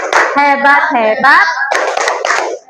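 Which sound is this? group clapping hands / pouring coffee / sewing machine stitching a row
group clapping hands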